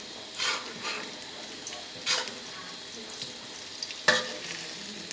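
A Thai omelette (khai jiao) frying in a hot pan, with a faint steady sizzle and a few brief louder bursts of spitting oil and scraping. No one talks.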